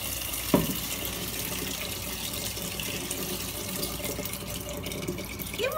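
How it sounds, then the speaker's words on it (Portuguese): Tap water runs into a cooking pot in a home kitchen, a steady close splashing and hiss with a brief knock near the start and a clatter at the end. "Vou colocar água na panela."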